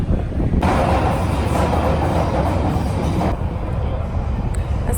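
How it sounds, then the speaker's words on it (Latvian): A London Underground train rumbles loudly and continuously nearby, with broadband roar and rolling noise filling the space, shifting in character partway through as the carriage moves. "Esam atnākuši uz metro."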